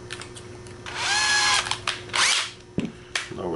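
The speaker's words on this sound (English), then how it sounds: "let's go ahead and switch heads on my drill" A power drill whirs in short bursts, spinning up and stopping several times, close and fairly loud, with a faint steady hum underneath, while assembling a PVC conduit battery pack.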